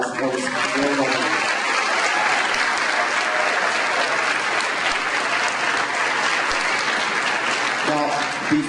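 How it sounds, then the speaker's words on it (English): A school auditorium audience at an 8th grade winter concert applauds in a full, sustained burst of clapping that fades near the end as a voice begins speaking. "So I want to give you another round of applause."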